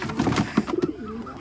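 Pigeons coo in short bursts on a rooftop where a stray bird has settled, close and fairly loud, with a few quick throaty rolls followed by a softer drawn-out coo.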